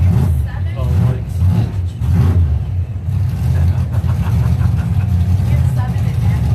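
Loud, throaty doorslammer drag race car engines rumble and rev steadily nearby at a qualifying session, the roar rising and falling in bursts without pause.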